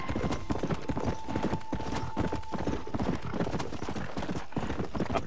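Rapid clip-clop of horse hooves at a gallop in Red Dead Redemption Online, steady and close, with a horse whinnying partway through.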